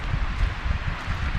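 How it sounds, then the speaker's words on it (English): Leaves rustle continuously in the wind, a soft, steady wash with low gusty rumble underneath. "So I can really hear those trees off over there."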